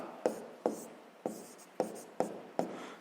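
A pen writes by hand in a sixth-grade maths exercise book, making six evenly spaced taps and strokes as marks go onto the page. The sounds are quiet and close.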